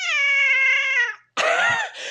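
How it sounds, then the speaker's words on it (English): A cat lets out a loud, drawn-out, close meow, followed after a short pause by a second harsher, wavering yowl. "she is like the most ornery cat that I have ever"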